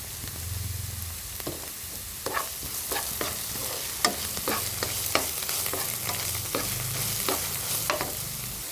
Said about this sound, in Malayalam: ചെറുതായിട്ട് നല്ലതായിട്ട് നമുക്ക് വഴറ്റിയെടുക്കാം.